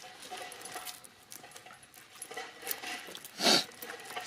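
Metal tire chains clink and jangle as they are hooked and snugged onto a 2017 Honda Odyssey wheel, faint scattered rattles and taps with one sharper metallic clack near the end.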